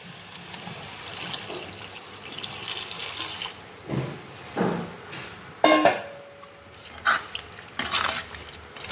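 Water poured into a cooking pot of coconut drumstick gravy, with bursts of splashing and stirring clatter in uneven spurts, close and fairly loud.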